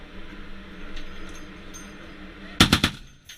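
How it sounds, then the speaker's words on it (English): A shipboard M2 Browning heavy machine gun fires a short burst of about three loud, close warning shots near the end, after a few seconds of wind and engine rumble. "Give me warning shots."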